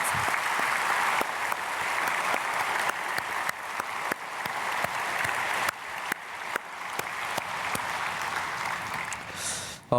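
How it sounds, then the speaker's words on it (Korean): A church congregation applauds a retiring elder and his family at an early-morning prayer service, a steady dense clapping that fills the room for about ten seconds and then stops abruptly. "우리 감사와 축복의 박수를 장로님 가정 보내드리겠습니다."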